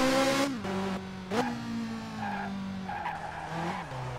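Hard braking and tire skidding from a car in the video game F355 Challenge, with the engine note dropping in pitch as the tires squeal steadily for several seconds.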